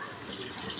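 Water pours into rice for a vegetable biryani, a brief steady splashing stream heard close up.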